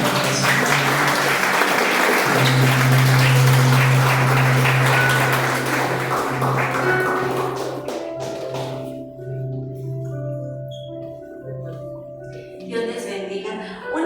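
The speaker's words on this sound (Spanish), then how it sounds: "Den un fuerte aplauso al Señor." Loud applause from a church congregation at a Spanish-language service, sustained clapping that swells then gradually thins out, with a low steady tone underneath and some voices mixed in.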